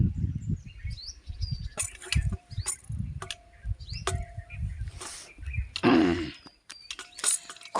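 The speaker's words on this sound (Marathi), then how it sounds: "पक्षींचा आवाज किती छान येतोय बघा।" Birds chirp and call in a forest along a pilgrimage route, with scattered short tweets and brief whistles over a low rustling background, fairly close and clear, no talk.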